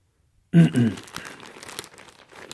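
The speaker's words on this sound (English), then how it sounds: "Come with this nice clear Ziploc bag." A clear plastic Ziploc bag from a Palace Skateboards hoodie unboxing crinkles close up, starting with a sharp burst and settling into a run of irregular crackles and rustles that continue to the end.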